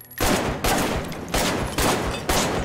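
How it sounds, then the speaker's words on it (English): Gunfire in the VR shooter Arktika.1 as targets are shot: four or five loud, broad blasts in quick succession, each ringing briefly before the next, with no talking. "Now, fire at the targets and get a feel for it."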